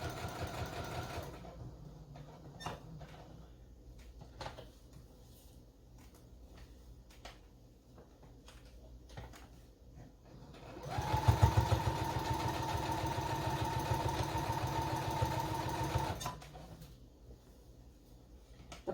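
A sewing machine stitching an apron runs in a steady, fast mechanical whir for a few seconds, surrounded by quieter handling clicks and rustles of fabric and pins before and after.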